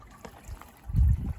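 Water trickles and overflows from a bird bath into a pot in a garden feature fed by a rain barrel with an automatic drip system, a soft low burble that swells louder in the second half.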